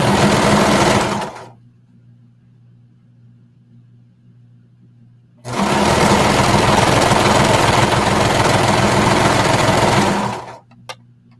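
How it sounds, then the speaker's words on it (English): A sewing machine stitches the top seam of leggings, joining the liner to the main fabric with a 3/8 seam allowance, in two loud, rapid mechanical bursts of about one and five seconds, separated by a quiet pause with a faint hum. "We're just going to sew along the top"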